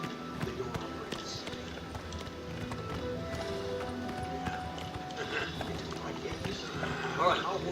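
Horse hooves clip-clop steadily at a gallop on the road to Bruma in Oblivion Remastered, a continuous rhythmic drumming at moderate loudness with game ambience around it throughout.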